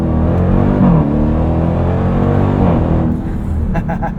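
A 2023 Dodge Durango SRT Hellcat's supercharged engine drones loud and close from inside the cabin, revs climbing and dipping as the transmission shifts in track mode.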